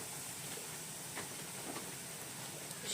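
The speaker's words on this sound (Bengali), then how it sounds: "আমি এই ফোড়নে দেওয়ার জন্য তেজপাতা এদিকে জিরে" Bay leaf and cumin sizzle in hot oil for a tempering, a faint, steady hiss with soft crackles throughout.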